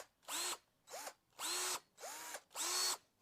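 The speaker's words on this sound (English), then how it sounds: "This is my drill. Do you hear that?" Cordless power drill running in short bursts, five loud whirring spin-ups with brief pauses between them, close and alone with no talking.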